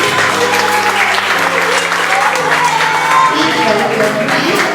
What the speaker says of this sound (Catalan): un prou aplaudiment